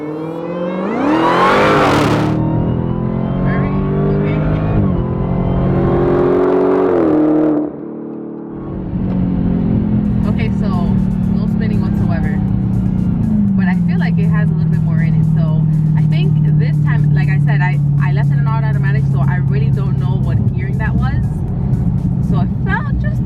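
A Dodge Challenger Hellcat Redeye accelerates hard, its engine climbing loudly in pitch through the gears, with a brief drop at a shift before a sustained high-revving pull, heard from inside the car.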